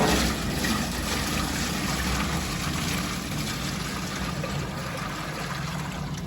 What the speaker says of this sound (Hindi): बाल्टी मैंने भरने के लिए रख दी हुई है, जैसे भर जाती फिर पानी डालते हैं इसमें